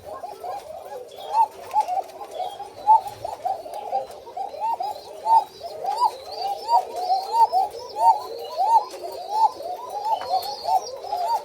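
A flock of white Koka pigeons on a farm coos continuously, overlapping rolling coos repeating in a steady rhythm, close and clear, with a few faint chirps and no talk.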